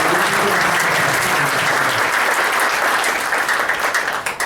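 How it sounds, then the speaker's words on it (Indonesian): Loud, sustained applause fills an Indonesian insurance gathering, a thick wash of many hands clapping together that stays strong throughout and thins briefly near the close. "Boleh tepuk tangan teman-teman."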